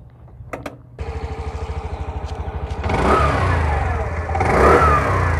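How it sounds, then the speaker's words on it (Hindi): TVS Jupiter BS6 scooter engine cranks with a few clicks, then fires into a fast, even putter at idle before being revved twice into louder, higher whining surges, recorded up close with no talking. "चलिए मैं आपको स्टार्ट करके इसको साउंड बताता हूँ।"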